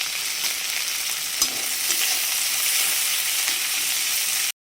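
Eggplant, green chili and tomato fry in hot oil, giving a steady, close, bright sizzle with a few faint stirring knocks, running evenly until it cuts off abruptly near the end.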